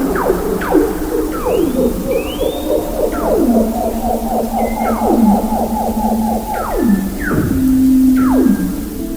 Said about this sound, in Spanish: Las focas de Weddell en la Antártida también se comunican utilizando sonidos, y estas son unas interacciones grabadas en la Antártida entre distintas focas